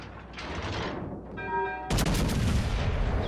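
A destroyer's guns fire full salvos in a naval combat game, with a sharp mechanical click and tone, then a loud, close booming volley that rolls on to the end.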